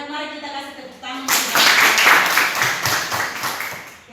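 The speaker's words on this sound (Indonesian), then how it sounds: "mari kita kasih tepuk tangan." Teachers give a round of applause after a talk on school culture: steady, dense clapping bursts in about a second in and holds loud through the rest, following a short stretch of speaking.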